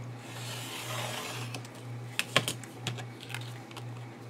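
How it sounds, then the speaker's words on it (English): An X-Acto knife draws through white paper along a ruler, a soft scraping slide followed by a few sharp close ticks and clicks from the blade and straightedge, over a low steady hum. "I'm just cutting, just going to cut all the white paper off with the X-Acto knife"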